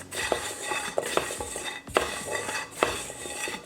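Seasoned vegetables being tossed with utensils in a bowl or tray: three or four rhythmic bursts of scraping and clinking metal against dish, close and moderately loud, with no talking.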